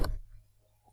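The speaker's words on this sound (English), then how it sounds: "the phone being hung up." A single short, clunky knock of a telephone handset being hung up, fairly close and faint, ending quickly with a thin tail and near silence afterward.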